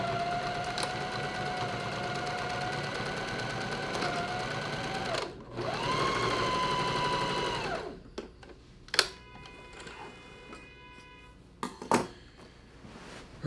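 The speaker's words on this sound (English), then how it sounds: "I'm gonna sew the edge vertically just so it's tight as well." A sewing machine runs in long steady bursts, stitching vertically along the edge of a scrap-fabric collage, pausing between runs, followed by brief clicks and handling noises.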